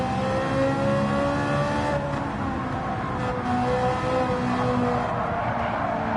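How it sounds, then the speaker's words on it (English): A race car engine on the Autopolis circuit holds a steady, loud drone from inside the car, revs held evenly with slight shifts in pitch, no voices. "I'm not pushing it now, and I can hear it in the motor."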